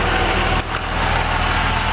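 An electric car's Warp 9 motor, thought to be blown, spins with a rough grinding drone that stays steady and close for a couple of seconds, easing slightly partway through, with no speech.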